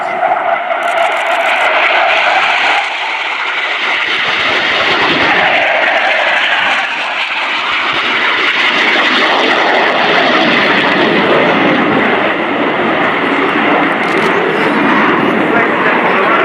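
BAE Hawk T2 jet roaring through a flying display at RIAT 2015, a loud sustained engine rush that swells and shifts as it passes, with a commentator talking over it.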